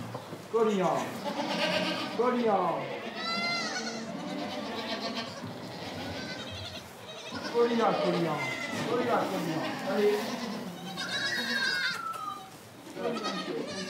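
Goats bleat repeatedly at close range on a Corsican farm, several calls overlapping, with people talking in the background between and under the cries.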